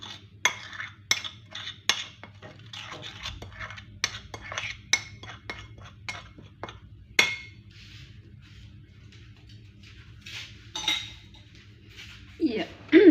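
Stuffed chicken drumstick filling with garlic is stirred in a bowl, a spoon clinking and scraping against the sides in quick, irregular strokes, close and fairly loud.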